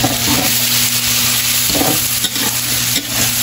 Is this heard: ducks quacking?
no